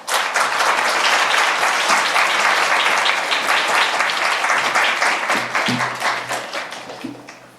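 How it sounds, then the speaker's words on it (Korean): A church congregation at a Friday night prayer meeting gives loud, sustained applause as a deacon comes up to speak, dense clapping that thins toward the end with a few scattered claps and faint voices. "우리 나오실 때 큰 박수로 맞아주시면 감사하겠습니다"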